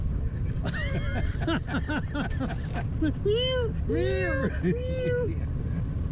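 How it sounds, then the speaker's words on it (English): Several high, drawn-out cat meows repeat one after another over a steady background rumble, close and clear. "It sounds like a cat."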